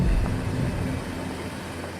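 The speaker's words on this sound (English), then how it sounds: "We're actually driving a car through the space." A car drives through an indoor film set in a practical-effects shot, producing a loud, continuous engine rumble that starts strongest and fades slightly as it moves, with no talking.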